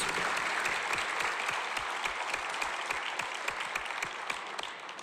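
Sustained, dense applause at a regional educators awards and scholarship ceremony for pre-kindergarten through fifth grade honorees, steady from a large crowd and easing slightly near the end.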